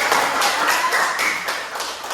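Children in a classroom clap their hands together in a quick, even, close burst of sharp claps that keeps going for about two seconds.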